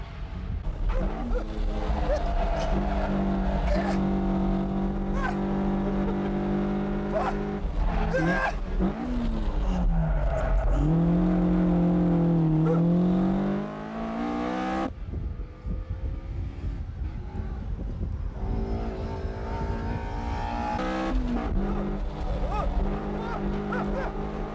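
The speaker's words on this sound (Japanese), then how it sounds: "快音を轟かせ最初のコーナーに飛び込む86でありますが、" A Toyota AE86 race car roars into the first corner, its engine note climbing and falling through repeated revs with some tire noise. The sound is loud and sustained, then drops away and builds again.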